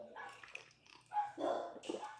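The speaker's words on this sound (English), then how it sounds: "Here's that dog again, bro. This dog every day at this time," A dog barks repeatedly from some distance in a series of uneven bursts, with a faint low hum running underneath and no talk.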